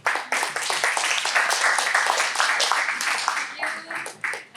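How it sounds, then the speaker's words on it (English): Applause from a club meeting audience for the Toastmaster of the day, a steady dense patter of many hands clapping throughout, fairly near and loud, tapering slightly at the end. "let's give a huge round of applause to our amazing TMOD Toastmaster Amina"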